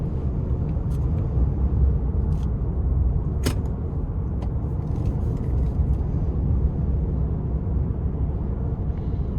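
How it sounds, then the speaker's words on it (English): Inside a 2026 Nissan Pathfinder Rock Creek with a 3.5-litre V6 driving on newly paved road, a steady low road rumble and tire hum fills the cabin, with a few faint clicks and rattles and no talking. "the overall ride, even though this is an off-road oriented vehicle, is relatively quiet coming down this newer paved stretch of road here"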